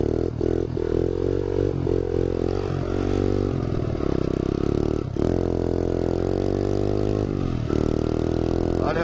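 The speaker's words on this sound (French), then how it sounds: "On a toujours un gros trou dans le pot." A motor vehicle engine with a big hole in its exhaust, running steadily with a loud, raw, rumbling drone that rises and falls in pitch as it revs, with no talk over it.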